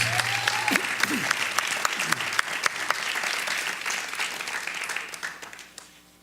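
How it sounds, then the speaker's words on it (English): An audience at a Miami democracy event applauds a community leader with dense, sustained clapping and a few sharp individual claps. A faint voice and brief sliding tones sit underneath early on, and the applause fades out at the end. "let's give him a nice round of applause"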